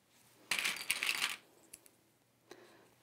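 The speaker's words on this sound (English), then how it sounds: "So I'm going to clip these together. Lots of clips around the curve." Sewing clips snap onto thick fabric around a bag's curve, heard as a close, sharp rattling clatter lasting under a second, followed by a few softer isolated clicks.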